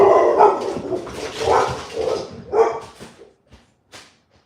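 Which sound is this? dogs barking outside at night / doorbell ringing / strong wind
dogs barking outside at night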